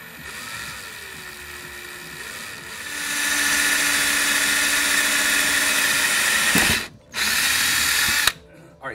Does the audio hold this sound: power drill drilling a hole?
yes